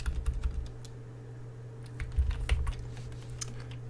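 Keys clatter on a computer keyboard as a short change-directory command is typed, a quick irregular run of close, crisp taps with a brief pause in the middle.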